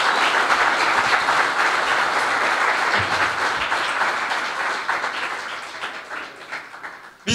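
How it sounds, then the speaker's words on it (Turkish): Sustained, dense applause from a crowd at a Turkish CHP party event, steady and loud throughout with a brief rise at the very end, no speech over it. "önce bir kere kendi emeğinizi alkışlamanızı istiyorum sizlerden"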